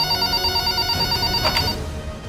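Home landline telephone ringing with a bright electronic warble, loud and close, repeating for about two seconds before cutting off, with no one speaking.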